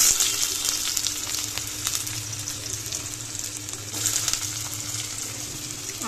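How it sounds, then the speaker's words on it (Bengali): Potatoes frying in hot oil in a wok for khichuri, a loud steady sizzle and spatter that carries through without a break, with soft stirring movements underneath and no talk. "তেল গরম হয়ে গেছে আর এর মধ্যে আমি দিয়ে দেবো একে একে কেটে রাখা সবজিগুলো"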